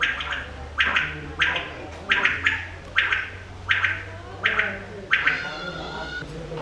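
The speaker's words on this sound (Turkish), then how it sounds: "Bakın bu kuş sesi şuradan geliyor." Birds call outdoors on landscaped grounds at the Islamic Civilization Center in Tashkent, Uzbekistan: about nine short, bright, evenly spaced calls repeat over a steady low background hum.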